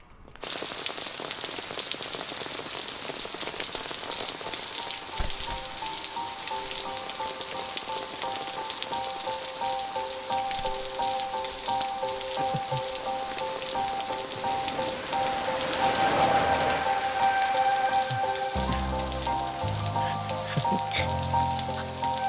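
Sudden rain in a dubbed South Indian film scene, a steady dense hiss of rainfall pouring on surfaces throughout, loud and continuous with a brief swell near the middle and faint low music underneath.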